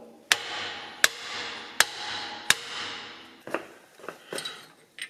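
Four evenly spaced sharp metallic taps ring out close by as a washer and lock nut are driven onto an axle pinion, each strike leaving a short ringing tail, followed by softer irregular clinks.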